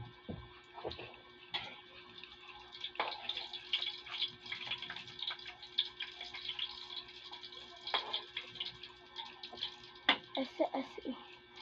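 Water runs from a tap for a shower, a continuous fluctuating splash and patter with uneven surges, heard at moderate level in a small room.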